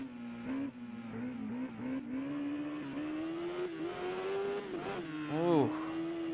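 Kawasaki ZX-10R sport bike engine revving hard while riding, a loud steady high-pitched drone with quick rises and a sharp throttle blip near the end, fairly close and continuous.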